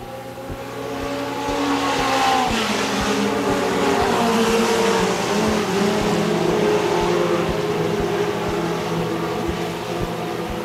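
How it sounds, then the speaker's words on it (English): Modified mini race cars roar around Smoky Mountain Speedway in a night feature, a dense continuous engine drone with shifting pitch as cars pass, loud and steady with no talking. "The 4 car once again slows going into turn 3."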